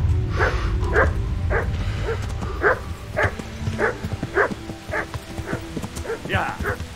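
Repeated dog barks at a steady pace over rumbling background noise from the video game Kingdom Come: Deliverance, with muffled talking mixed in.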